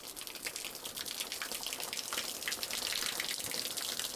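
Water gushing into a flooded basement, a steady broadband rush with splashing that swells slightly louder toward the end, continuous and close with no talking.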